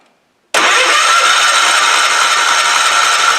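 A Kohler engine on a Toro Sand Pro 14, running off a temporary fuel tank, fires up abruptly after a brief silence and settles into a loud, steady, close-up running roar with no talk.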